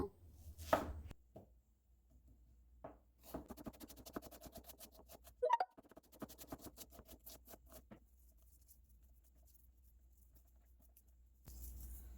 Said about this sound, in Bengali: একটা মিডিয়াম সাইজ অনিয়নও স্লাইস করে নেব